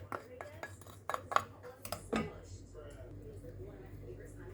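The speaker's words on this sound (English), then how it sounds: "Let's add all our ingredients. Let's put our sugar, powdered milk" Sugar and powdered milk go into a cooking pot for a chocolate custard cake, with a run of sharp spoon-on-pot clinks and taps early on that give way to quieter low kitchen background.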